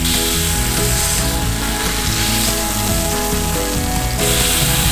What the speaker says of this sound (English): So turn your steak up and render off the fat cap that's on the side.